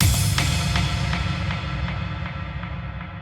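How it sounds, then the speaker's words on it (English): An impact effect from an Ableton Live rack combines a deep kick thump and a crash with Foley layers, striking loudly at the start and then washing away in a long decaying tail with faint rhythmic echoes. "impact effects are the kinds of sounds that you use to announce the start of a section in an arrangement"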